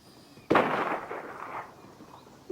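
A single loud gunshot bursts out in a video game, followed by a decaying rumble and a faint second pop near the end.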